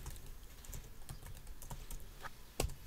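Computer keyboard keys tapped in quiet, irregular bursts nearby, soft clicks throughout and one sharper, louder keystroke near the end.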